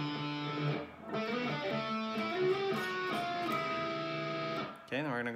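An electric guitar plays a melodic solo riff, sustained notes and bends ringing moderately loud with a brief pause, ending on a quick string slide.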